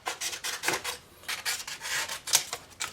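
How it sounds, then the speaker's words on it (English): A small piece of 800 grit sandpaper, folded double, rubs over guitar frets in quick back-and-forth strokes, a close, dry scratchy rasp in short rhythmic bursts. "Now I'll get my little piece of 800 grit sandpaper."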